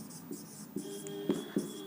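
Marker or chalk scratches across a classroom board during a chemistry lecture, soft rhythmic strokes and a few taps, close and fairly quiet.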